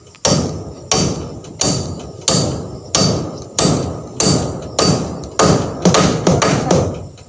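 Loud, regular hammer blows strike about every two-thirds of a second, each ringing briefly, speeding into a quicker flurry of hits at the end.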